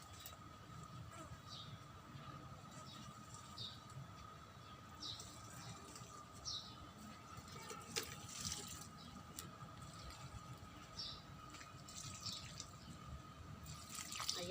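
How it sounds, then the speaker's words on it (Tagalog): Water poured from a carried container onto plants in a home garden, giving faint, patchy dripping and splashing over a low outdoor background, with a voice speaking intermittently. "Didiligan ko na sila."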